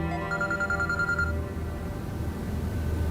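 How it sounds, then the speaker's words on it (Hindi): A mobile phone rings with an incoming call, a quick warbling electronic ring that repeats for about a second. It is moderately loud over a low indoor background, then fades into quiet room tone. "ये लो, उसका फोन आ गया"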